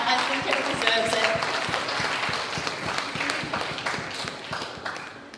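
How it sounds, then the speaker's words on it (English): Applause at a talk or presentation: dense, steady clapping from an audience fills the room for several seconds, fairly loud and continuous with a busy, crackling texture and faint voices mixed in. "Can we have a round of applause for that?"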